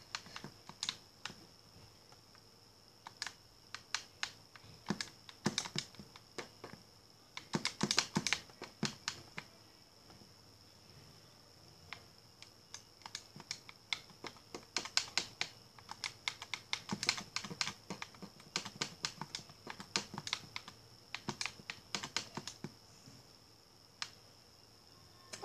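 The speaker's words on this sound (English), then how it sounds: "I'm just gonna type in Circus Baby" Keys on a computer keyboard clack in short irregular runs, with quick taps that bunch into busy stretches and then thin out, close up and fairly quiet, with no talking.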